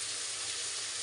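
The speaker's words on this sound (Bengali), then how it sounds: "আলুটা আগে ভেজে নিচ্ছি।" Potatoes frying in oil in a home kitchen pan give a steady, close hiss and sizzle that holds evenly throughout, with no voices.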